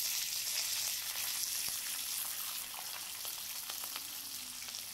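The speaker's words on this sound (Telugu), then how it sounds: "బాగా వేగిన తర్వాత కరివేపాకు కూడా వేసుకుని కాసేపు వేయించుకోవాలి." Curry leaves frying in hot oil for ginger chutney, a steady dense sizzle with faint crackles and a few light clicks, continuous and close throughout.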